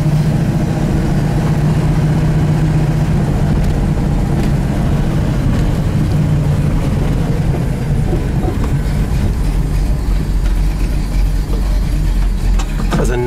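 A 1970 Pontiac Firebird with an aftermarket cam idles steadily and loud up close, its deep lumpy rumble continuous throughout with no talking.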